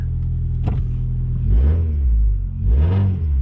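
A white dually pickup truck accelerates close by, its engine note rising in two strong revving surges over a steady rumble, loud and with no talking.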